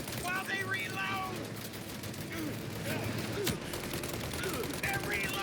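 A shootout in the video game Mafia Definitive Edition fills the clip with dense, rapid bursts of gunfire and shot after shot. Someone shouts excitedly over it.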